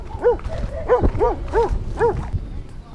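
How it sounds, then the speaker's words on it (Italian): Several dogs bark in a rural area of Puglia, a quick run of yelping barks, some near and some farther off, with a bit of background noise. "ci mancavano proprio i cani, sì"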